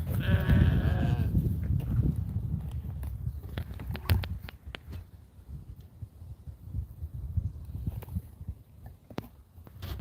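Sheep bleat repeatedly on a farm as they are let out of their pen in hot weather, the loudest calls near at the start, then fainter bleats over shuffling hooves and outdoor noise.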